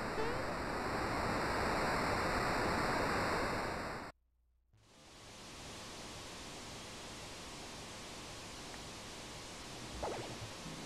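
Broad rushing water in Super Mario RPG roars steadily, cuts out for a moment, then resumes as a softer continuous wash with a faint splash near the end.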